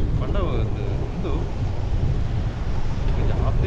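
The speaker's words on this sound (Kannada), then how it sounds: "ಜಾಸ್ತಿ ಗಾಳಿ ಬರೋದನ್ನ ದೂರ ಉಂತಿರಾಪಜಿ" Strong wind rushes and buffets the microphone during a late-night family ride, a loud, steady roar throughout. Faint voices can be heard beneath it.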